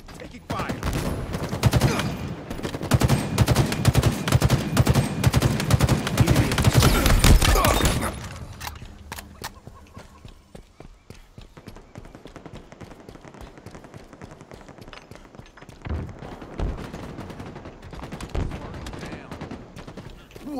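Gunfire in a Halo Infinite multiplayer match: dense, loud bursts of automatic fire for about eight seconds, then quieter, scattered shots and thuds.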